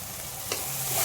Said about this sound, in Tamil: கொஞ்சமாக ஆயில் ஆட் பண்ணி இப்படி நல்லா வதக்கிக்கோங்க